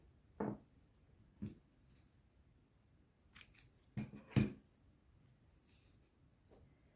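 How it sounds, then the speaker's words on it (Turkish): Scissors snip crochet yarn in a few quiet, sharp clicks spread out over several seconds, with a quick double snip near the middle, close and isolated. "Burada ipimi keseceğim."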